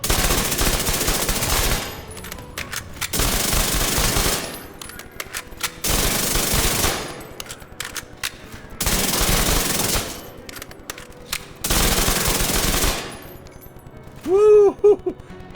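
A Chatterbox submachine gun in Division 2 fires several long, loud, rapid automatic bursts separated by short pauses, closing with a brief ringing shimmer of sound.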